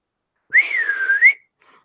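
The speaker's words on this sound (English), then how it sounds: "I whistled loudly." One loud human whistle rings out alone, a clear sustained tone about a second long that dips slightly and rises again before cutting off into silence.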